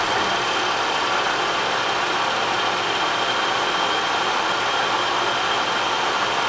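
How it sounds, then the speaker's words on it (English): A metal lathe on auto feed shaves a titanium shift knob, giving a loud, steady, broadband whirring hiss that holds unchanged and close throughout, with no voices. "engage auto feed and... That's going to shave off a layer."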